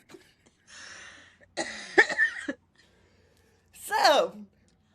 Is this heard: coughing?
yes